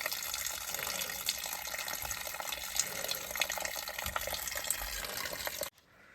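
A tap in a house being readied for auction sale runs steadily after the city water is turned back on, a constant close splashing rush that cuts off abruptly near the end.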